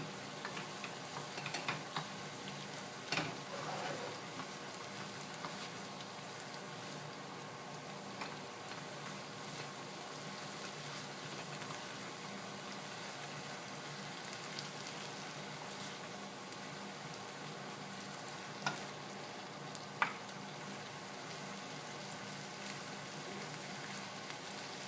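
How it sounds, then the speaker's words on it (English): Onions and garlic sautéing in a pan make a faint, continuous sizzle with light ticking and occasional utensil clicks. "So we're done sauteing the onions and the garlic"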